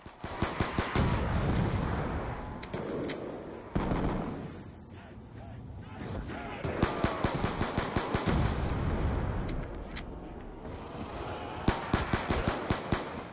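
Rapid machine-gun bursts and single shots crackle through Black Ops 2 Zombies gameplay, repeated in clusters over a rumbling game backdrop, fairly loud throughout.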